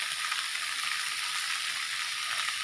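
Food sizzling and frying in a pan while being stirred, a steady bright crackle throughout with soft scraping, no voices.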